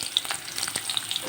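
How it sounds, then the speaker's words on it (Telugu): Sliced onions, dried red chillies and curry leaves crackle and sizzle in a hot oil tempering, a brisk close hiss with quick spoon scrapes and small pops. "ఇలా స్లైస్ చేసుకున్న ఉల్లిపాయలు తాలింపులో వేసుకోవాలి."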